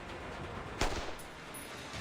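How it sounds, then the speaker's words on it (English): A single sharp gunshot cracks out in Reverse: 1999, a brief loud report standing out against a low, steady background hum before fading. "A gunshot hammers out nearby"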